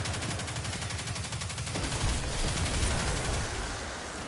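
Rapid, sustained video game gunfire from shooting enemies, rattling continuously at a steady rhythm and growing denser partway through, with no talk.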